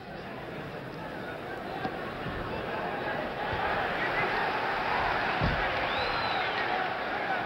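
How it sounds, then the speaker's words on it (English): Boxing arena crowd at a 1971 heavyweight bout roars and cheers steadily, a dense sustained wall of voices that swells slightly partway through, with scattered shouts rising out of the noise. "Pires brings the crowd up with his efforts"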